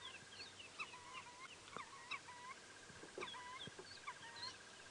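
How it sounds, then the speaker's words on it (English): Distant parrots call repeatedly over a steady outdoor hiss at sunrise on a safari drive, short squawking notes scattered throughout, faint and far off with no talking. "The parrots are still calling in that direction."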